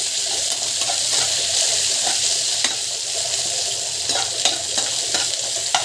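Onion and curry leaves sauté in a hot pan, giving a continuous bright sizzle broken by irregular scrapes and clicks of a spoon stirring, close and without voices.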